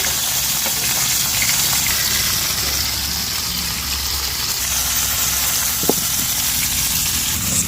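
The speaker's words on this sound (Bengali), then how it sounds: "মাছ ভাজি হয়ে গেছে দিয়ে ফেলি এবার" Fish pieces frying in oil in a pan, a loud continuous hiss and sizzle with a low background rumble and a single sharp clink partway through; no talking.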